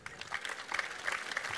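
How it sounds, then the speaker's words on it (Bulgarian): Audience applause at a folk song contest, a steady dense clapping crowd with some louder bursts, fairly even in level throughout. "Аплодисменти за водещата от Радио Веселина Светлана Кабайванова"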